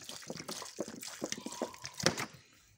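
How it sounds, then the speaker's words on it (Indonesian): Water is poured from a container onto potting soil around a cultivated plant, making soft splashing and trickling bursts in a quick, irregular series that fade out at the end. "Nah kita siram air seperti ini, lihat kawan."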